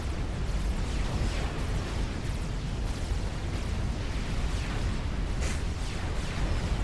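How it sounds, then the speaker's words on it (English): A battle explosion in the strategy game Supreme Commander: Forged Alliance makes a sustained, dense roaring rumble with crackling bursts. It runs steady and loud for several seconds, with no talk over it. "In the background, see that explosion."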